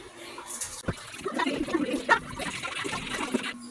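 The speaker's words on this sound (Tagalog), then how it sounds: "lagyan ng tubig na naaayon sa tamang sukat" Water pours and trickles into a rice cooker pot holding washed rice, a soft, close splashing that stays steady for several seconds.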